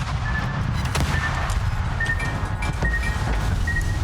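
A warship in the World of Warships video game taking shell hits amid battle, a steady dense roar of distant gunfire and thuds with a faint tonal alarm repeating, no speech.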